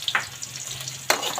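Garlic frying in oil while sprouts are cooked at home, a steady close sizzle with two sharper bursts of spatter or stirring.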